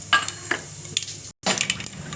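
Mustard seeds, cumin, chana dal and urad dal crackle and sizzle in hot oil for a tempering, with close sputtering pops over a steady frying hiss and a brief silent break partway through.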